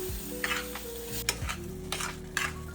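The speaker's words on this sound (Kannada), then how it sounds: "ರಸ ಹಾಕಿ ಚೆನ್ನಾಗಿ ಮಿಕ್ಸ್ ಮಾಡ್ತಾ ಇದ್ದೀನಿ." Dry fish gravy with tamarind juice being stirred in a pan, a steady bubbling sizzle with a few scraping strokes of the spoon at intervals, close and alone.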